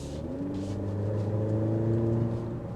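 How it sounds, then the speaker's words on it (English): A Maserati Grecale car engine hums steadily with a smooth, buzzy four-cylinder exhaust note, rising slightly in pitch as it accelerates. "The exhaust note, it sounds like a 4-cylinder."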